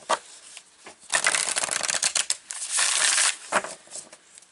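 Oracle card deck, a Moonology set, shuffled by hand in bursts of crisp riffling and flicking, close and fairly loud with brief pauses between passes; no talking.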